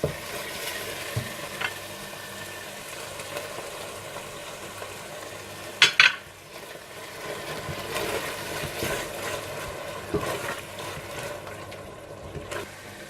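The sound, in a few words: stirring yogurt into tomato masala in a pan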